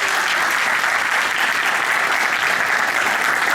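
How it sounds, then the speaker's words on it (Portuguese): Dense, steady applause from a meetup audience after a talk on Android styles and themes, loud and continuous with no gaps, many hands clapping together. "Uma salva de palmas para a Nathalie."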